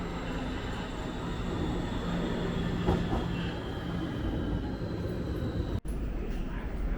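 A passenger train pulls into Rotterdam Central station, a steady loud rumble of railcars rolling in with faint wheel squeal, ending in a brief sharp knock.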